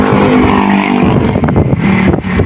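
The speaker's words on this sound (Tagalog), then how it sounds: "Ay, may sasakyan oh." A car passes close by on the road, a loud engine roar that swells and shifts in pitch as it goes by, over rumbling wind noise.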